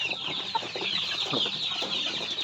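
Backyard chickens kept by a small-scale poultry raiser cluck steadily and busily, several birds close by with overlapping calls and no talking.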